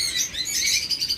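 A running master pair of cockatiels chirping in a quick run of bright, high repeated calls, close and fairly loud, alone without talk.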